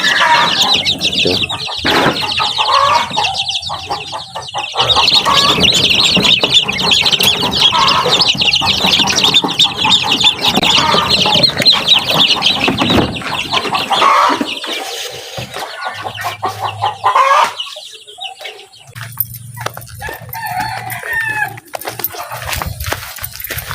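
Young turkey and chicken chicks, about a week old, peep and cheep constantly in a dense, loud chorus with occasional clucks, and a faint hum shows up near the end.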